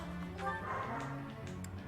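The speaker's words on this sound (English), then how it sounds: "I love my dog, but sometimes he can be a touch annoying. Makes a lot of noise." A pet dog named Milo gives short yipping barks and whimpery woofs, fairly faint, over a low background of game music.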